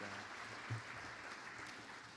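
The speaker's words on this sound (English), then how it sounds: "let's give a round of applause for every artist up here" An audience at an art colloquium claps for the artists up front, a short stretch of steady, even applause heard from some distance, with no clear voices over it.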